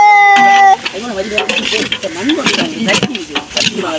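Onions and tomatoes sizzling and being stirred in a hot pan, with a constant frying hiss and scraping, while a person talks over it.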